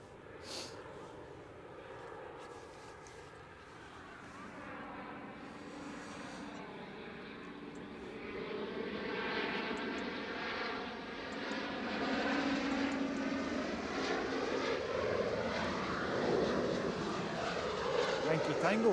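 A BA CityFlyer airplane at Edinburgh Airport roars as it passes at a distance, its engine rumble rising steadily over about twenty seconds, with a sweeping whine as it nears; people talk quietly beneath it.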